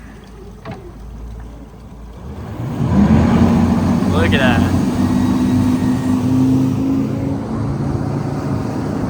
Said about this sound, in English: about to get ready for a hole shot, and then you can just watch behind the engines